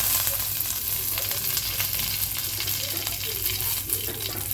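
Curry leaves and black mustard seeds fry in hot oil with a steady, dense sizzle that fills the whole stretch, close and fairly loud, with faint scraping from stirring and a low hum underneath.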